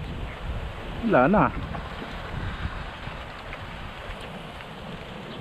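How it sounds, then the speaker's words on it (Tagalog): Strong wind gusting over open water during a boat fishing trip, a steady broad rush that fills the whole stretch, with a brief voice speaking early on. "bumayo na nga ang napakalakas na hangin"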